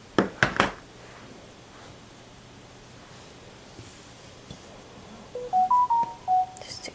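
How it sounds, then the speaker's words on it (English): A telephone rings, a short electronic melody of stepped tones near the end, after a few sharp clicks and rustles and a stretch of quiet room noise. "Just ignore the phone."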